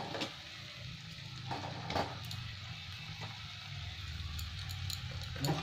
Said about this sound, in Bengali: ভালো করে মশলার সাথে ভেজে নেবো আলুগুলো।